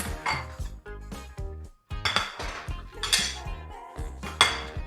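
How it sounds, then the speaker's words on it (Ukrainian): Ceramic plates, forks and table knives are set onto a dinner table for guests, giving a steady run of close clinks, clatters and metallic chinks with brief pauses. "Тому ми ставимо 4 тарілки та кладемо веделки зі столовими ножами."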